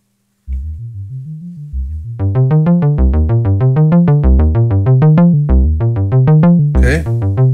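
A Behringer 2600 synthesizer plays a dynamic envelope patch through a VCA, a sequence of rhythmic, buzzy harmonic notes with stepping pitches that grows louder after a soft opening and ends with a brief noisy burst.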